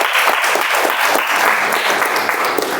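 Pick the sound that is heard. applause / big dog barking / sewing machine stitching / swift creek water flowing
applause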